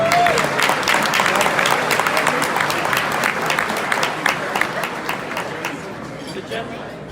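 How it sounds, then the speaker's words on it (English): Audience applauding sponsors at a community builders tribute gala supporting a hospital, a steady dense round of clapping that carries on throughout and fades slightly toward the end. "Please join us in giving a round of applause to our Trailblazer sponsors."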